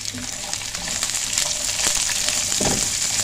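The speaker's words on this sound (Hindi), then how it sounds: "अब हम इसमें डाल देंगे मिर्चें, ये जो हमने कट्स लगा के रखे" Slit green chillies fry with cumin seeds in hot oil, giving a moderate crackling sizzle with brief stirring clatter near the end, no talk.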